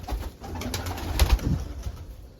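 Pigeons coo softly in low, throaty bursts, with a few fluttery rustles nearby and no one talking.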